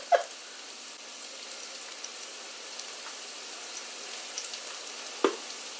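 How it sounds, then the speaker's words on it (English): Potatoes fry in a pan at home, a steady close crackling sizzle with a few sharper pops at the start and near the end. "I've got potatoes frying over here."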